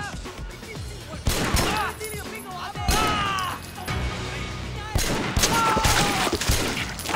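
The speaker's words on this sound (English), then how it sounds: "Okay, they're using guns." Gunfire in the open-world game Triad Wars, including a shotgun, with repeated loud shot bursts and crashes mixed among shouting and game effects while people talk over the action.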